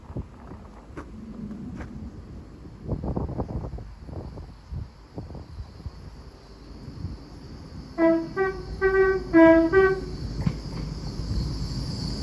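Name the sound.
train horn of GWR Class 800 train arriving at Didcot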